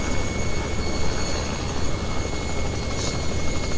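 Robinson R66 turbine helicopter in flight, a steady loud broadband rotor and turbine roar with a constant high whine running throughout, close and unbroken, no voices.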